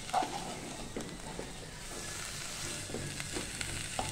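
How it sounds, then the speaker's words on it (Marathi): Thick puran lentil filling for puran poli is stirred in a pan, a soft continuous sizzle with occasional faint scraping strokes of the spatula, quiet and without talking. "हे बघा घट्ट होईपर्यंत आपल्याला परतत राहायचंय बरं का पुरण हे."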